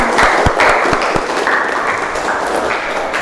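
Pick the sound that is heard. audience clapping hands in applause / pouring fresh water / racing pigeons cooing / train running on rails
audience clapping hands in applause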